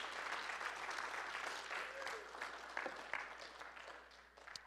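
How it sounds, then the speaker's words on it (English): A church congregation claps together in praise after a sermon, a dense, steady patter of many hands heard from a distance in a large room, easing off toward the end. "Give the Lord a big hand clap of praise."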